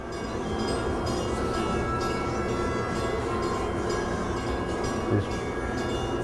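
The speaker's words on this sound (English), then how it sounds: "Happens to be a train going by as well." A train rumbles steadily past at close range near the Fairport lift bridge, a continuous loud roar of wheels and cars with faint rattling, no voices.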